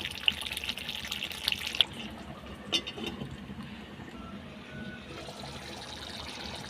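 Water poured into a simmering chicken gravy for egg chicken bhartha, a faint running splash in the first two seconds that fades to a quiet, soft background.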